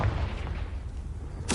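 A Confringo blasting spell in Hogwarts Legacy lands as a deep, rumbling boom that rolls on, followed by a sharp bright burst at the very end.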